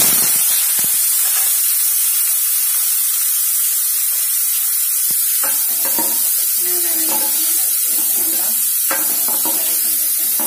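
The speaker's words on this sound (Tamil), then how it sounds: "வெங்காயம் வதங்கிடுச்சு" Small onions sizzle and crackle in hot oil, a steady frying hiss broken by occasional stirring scrapes, close up and loud.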